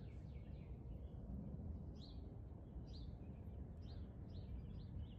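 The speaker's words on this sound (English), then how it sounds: "There's some robins." Robins singing outdoors in the morning, a string of faint, distant chirping phrases repeating every second or so over a steady low rumble of traffic.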